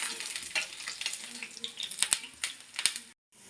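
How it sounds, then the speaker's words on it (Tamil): Garlic fries in a hot pan with a close, crackling sizzle broken by several sharp spatters and stirring clicks, followed by a short silent gap near the end. "பூண்டை நல்லா வறுத்துருவோம்."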